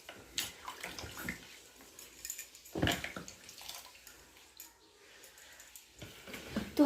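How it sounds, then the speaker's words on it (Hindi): Fruit being washed under running water, with irregular splashes, drips and sloshing bursts at close range, some louder splashes standing out, no talk. "तो पर फल लेके आके तो इसको हम धो लेते हैं पहले।"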